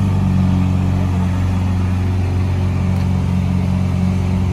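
A Lamborghini Aventador's engine hums loud and close in a steady, rich low drone with layered harmonics, holding an even idle-like rumble throughout with no voices.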